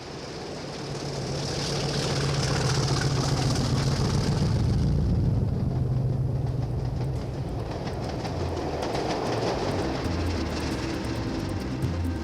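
A train rumbles past close by, swelling to a heavy roar with rhythmic clickety-clack of wheels on the rails, then holding steady as the carriages roll on.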